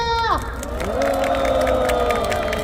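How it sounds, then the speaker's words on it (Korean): A crowd at a nighttime candlelight rally roars and cheers for speakers, with sustained shouting voices over a steady, loud wash of crowd noise. "힘찬 발언해주신 네 분께 다시 한번 큰 박수 부탁드립니다"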